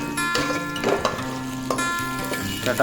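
Tomato and onion frying in a pan for tomato gojju, with irregular sizzling crackles and occasional clinks of a stirring utensil against the pan, close and moderately loud, alongside tonal background music.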